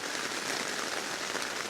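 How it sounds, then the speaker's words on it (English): Heavy rain pours down steadily during car camping, a dense, continuous hiss of drops drumming on surfaces close by, with no pauses and no voices. "the rain is so much heavier than what was forecast"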